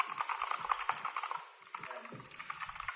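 Typing on a Fantech Maxfit108 MK855 mechanical keyboard: a steady stream of close, crisp key clicks with a short pause midway, heard alone without voices.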